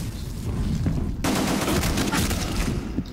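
Sustained gunfire from the online shooter Black Squad, loud and dense, with rapid overlapping shots and a sharp burst that thickens about a third of the way in, continuing steadily to the end.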